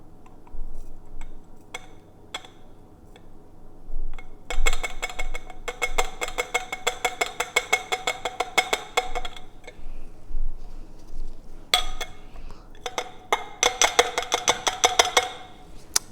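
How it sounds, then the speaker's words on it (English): Aluminum foil dropped and pushed into a glass flask during a bismuth extraction from Pepto-Bismol, heard as bursts of crinkling, rattling foil with light glassy clinks and ticks, close and fairly loud, with quiet pauses between. "And I'm going to add this aluminum foil"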